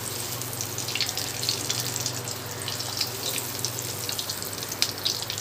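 Aloo chicken cutlets sizzle in hot oil in a pan, giving a steady, close frying hiss with fine crackles that runs unbroken throughout.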